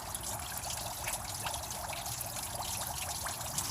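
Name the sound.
water flowing from a rubber garden hose into an engine block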